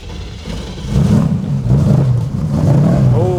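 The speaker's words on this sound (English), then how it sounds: "we're now inside the Deuce Coupe, so let's start it up" A 1932 Ford Deuce Coupe five-window hot rod engine fires up and settles into a loud, lumpy idle with rising and falling revs, heard close from inside the cabin.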